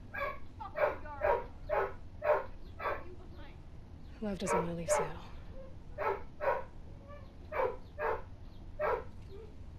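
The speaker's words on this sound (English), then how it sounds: "Sorry for my dog barking." A dog barks repeatedly in an even rhythm, close and fairly loud, while a person talks over it, with a brief burst of higher yips midway.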